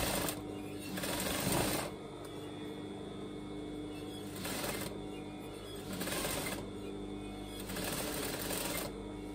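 A sewing machine back-tacks a strap on a net petticoat, running in short stitching bursts separated by brief pauses, close and fairly quiet with no talking.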